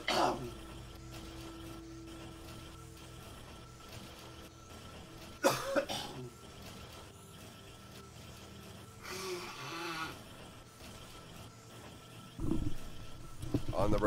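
A person coughs hard a few times, bursts of harsh throat-clearing coughs separated by quieter stretches, heard near and loud over low background game sound.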